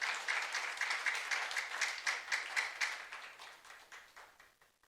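A church youth congregation applauds together, a dense burst of clapping that holds steady for a few seconds and then fades away gradually.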